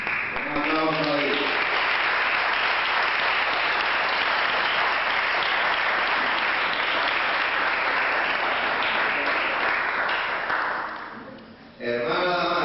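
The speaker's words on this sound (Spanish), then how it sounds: "Hermana Damaris, un aplauso ahí." Audience applause at a church ceremony crowning a sixteen-year-old girl, sustained and dense for about ten seconds before fading, with a voice speaking briefly at the start and end.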